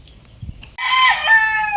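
A loud rooster, a young stag, crows nearby in one long drawn-out call, preceded by a few soft clucks.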